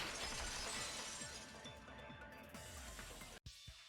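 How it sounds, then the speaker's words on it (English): A vase shatters in the Danganronpa 2 video game, a loud crash of breaking ceramic with bright scattering shards, followed by a brief cut to silence and a faint trailing tinkle. "If it wasn't the window, then what broke to make that sound? A vase."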